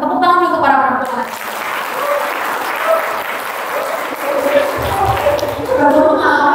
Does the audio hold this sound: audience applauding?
yes